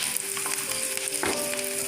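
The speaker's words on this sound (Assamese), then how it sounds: "পিঁয়াজখিনি দি দিম মই" Onions go into hot mustard oil in a kadai with two dried chillies, and a steady close sizzle follows. A brief scrape of stirring sounds midway.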